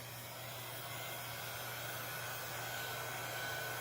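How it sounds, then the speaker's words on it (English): A heat gun set on low blows steadily while heating a tumbler cup, making a faint, even whoosh with no breaks. "I would most likely get your heat gun, put it on low,"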